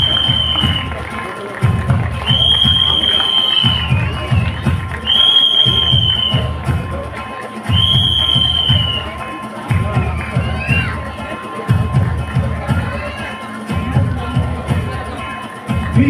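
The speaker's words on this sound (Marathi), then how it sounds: "जरा जोरदार टाळ्या होऊन जाऊ द्या." An audience at a women's achievement awards ceremony in Vashi bursts into applause and cheering, a dense sustained wash of clapping with shouts and whistles rising in repeated swells, loud and close.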